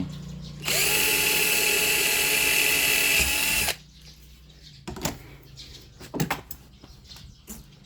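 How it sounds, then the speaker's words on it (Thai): A power drill bores into the inside of a metal amulet casing with a loud, high whine lasting about three seconds, followed by quieter scattered clicks and handling knocks. "เจาะข้างใน"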